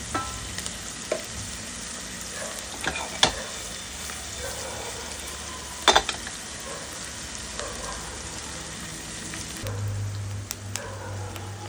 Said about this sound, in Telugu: 1/2 టీ స్పూన్ మెంతులు, 1/2 టీ స్పూన్ జీలకర్ర, ఇవన్నీ కూడా మంచిగా దోరగా వేయించుకోవాలి